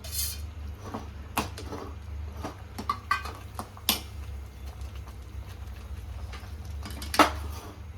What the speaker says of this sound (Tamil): இப்போ ஃப்ரை பண்ண சிக்கனை அதில் போடலாம்.